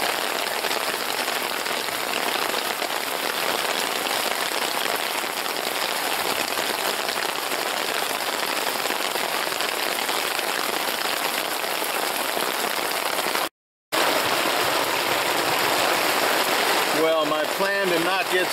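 Heavy rain pounds steadily on a tent during a storm, a dense close hiss lasting throughout with a brief gap near the end, where a few faint voice-like sounds come in.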